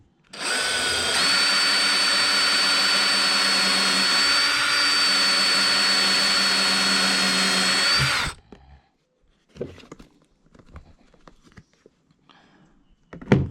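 A power drill with a step drill bit bores through thick material while an iDash unit is installed on a 2024 Chevrolet 2500. It gives a loud, steady, high whine for about seven seconds, then stops abruptly, followed by scattered quiet clicks and handling noises.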